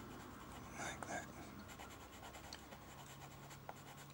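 A green pastel pencil scratches on paper while colour is smoothed in, giving a soft, continuous, close rubbing texture with a few sharper ticks.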